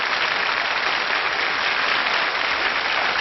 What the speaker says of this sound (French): le grand orchestre d'André Rieu, que vous pouvez applaudir plus fort encore